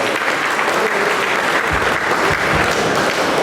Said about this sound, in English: I think we can give an applause to the Department of MBA faculty and students